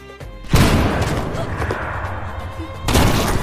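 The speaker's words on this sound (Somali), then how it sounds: "Xabad weyn oo dhagaha dilaacinaysa ayaa si kedis ah meesha qabsatay." A loud gunshot booms suddenly in a film, followed by a long rumbling, roaring aftermath and then a second heavy blast near the end.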